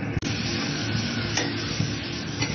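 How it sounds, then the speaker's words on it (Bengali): Spice paste of ginger, garlic and onion frying in a pan for chicken curry, a dense continuous sizzle with scraping stirs and a few sharp clicks, close and loud. "মশলাটা কষিয়ে নেব।"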